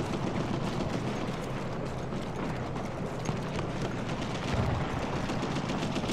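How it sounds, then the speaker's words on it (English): Battlefield 1 combat with a tank firing at the player, a dense continuous wall of gunfire rattle and rumbling blasts at steady loudness throughout, no speech over it. "Watch out, you're getting shot by the tank now."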